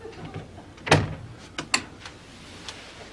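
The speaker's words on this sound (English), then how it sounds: "Open the door, Stanley." A door opens with a sharp thud and latch clack, followed by a few lighter clicks and knocks, moderately close in a quiet indoor room with no one speaking.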